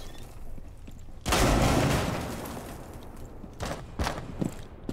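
Gunfire erupts in an online shooting video game: a loud sustained burst of shots, then several shorter pops and cracks trailing off, with no talk.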